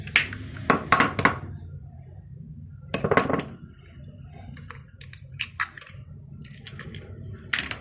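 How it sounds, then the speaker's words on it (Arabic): Eggs cracked one after another against a bowl for a chocolate cake, sharp clustered taps and clicks in separate bursts with quiet pauses between, close and fairly soft. "هكسر الثلاث بيضات"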